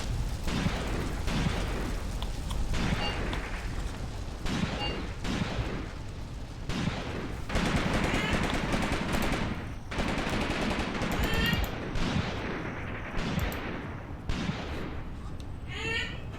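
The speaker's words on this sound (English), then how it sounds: "We're still getting some heavy fire" Heavy, sustained gunfire and bursts of machine-gun fire rumble through a battle in the WWII tactical war game Graviteam Tactics: Mius-Front, dense overlapping shots with occasional louder reports, with no clear talk over the din.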